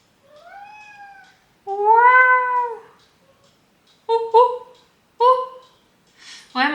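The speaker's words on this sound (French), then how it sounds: "mon chat croit qu'il est un singe" A domestic cat meows up close, with several distinct drawn-out and shorter meows separated by silences.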